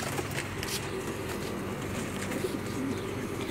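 Pigeons coo softly in a loft during ring banding, low murmuring calls scattered over a constant busy background of rustling and ambient noise.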